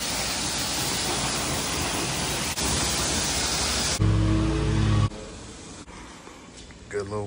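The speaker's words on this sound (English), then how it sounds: "Boy, washing your car will work up a sweat." Water sprays hard onto an Infiniti G35 sedan during a car wash, a loud, steady hiss lasting about four seconds before it cuts off and leaves quieter handling sounds.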